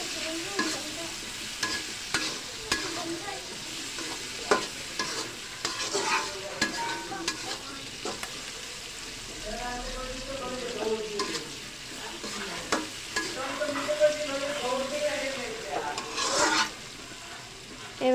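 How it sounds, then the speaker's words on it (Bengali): Dried lotia fish frying with onions in oil in a pan, a soft steady sizzle broken by repeated stirring scrapes and clinks of a utensil, close and fairly quiet. "এবার আমরা এগুলোকে ভালো করে ভেজে নেব।"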